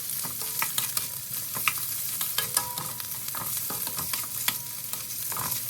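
Pork neck is stir-fried in curry paste, loud close sizzling broken by repeated scraping and clacking strokes of a utensil stirring the pan in an uneven rhythm, with no talking.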